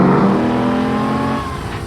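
A Brintech custom V8 engine in a converted Mazda MX-5 revs in one short, loud, close burst, its pitch climbing and then fading slightly as it pulls away.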